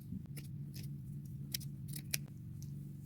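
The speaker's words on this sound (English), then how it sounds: "I think I'll cut this down the center" Scissors snip through a piece of thrifted blouse fabric, several crisp, close cuts spaced unevenly over a low steady background hum.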